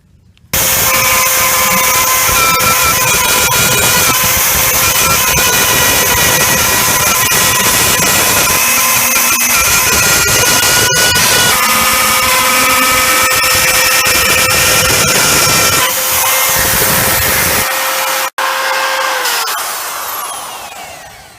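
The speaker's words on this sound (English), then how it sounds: "I've been using this RotoZip" A RotoZip rotary tool cuts outlet holes in drywall with a loud, steady high-pitched whine held for about seventeen seconds, then spinning down and cutting off near the end.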